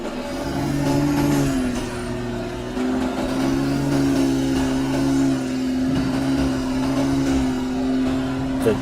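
A BMW X6 SUV engine drones at a steady, sustained pitch, loud and close, with a constant low hum and occasional rattles and scrapes.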